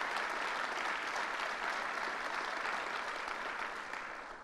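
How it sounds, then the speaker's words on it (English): A crowd applauds State Representative Angelo Santabarbara at a Schenectady announcement event, a steady wash of clapping that holds evenly and then begins to fade toward the end, heard at some distance. "Let's give him a round of applause."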